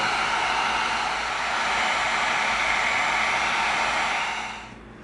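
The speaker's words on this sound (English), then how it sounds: "I'm going to heat seal it a little bit." A heat gun heat-sealing the surface of EVA foam blows a loud, steady airy roar close by for several seconds, then cuts off sharply near the end, with no voices.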